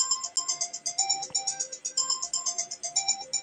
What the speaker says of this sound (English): I'm hearing a ringing coming from somewhere. Yeah, that's my iPhone.